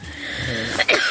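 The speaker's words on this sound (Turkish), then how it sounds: "Resmen öksürdüm." A single sharp cough from a person at a winter night camp, close and fairly loud, with a brief second burst right after it against a quiet background.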